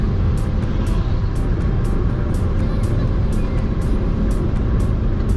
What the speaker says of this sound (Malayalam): നമ്മുടെ i20 അതുമായിട്ടാണ് നമ്മൾ ടിയാഗോ പിടിക്കുന്നത്.